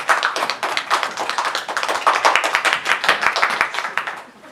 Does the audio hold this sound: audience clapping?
yes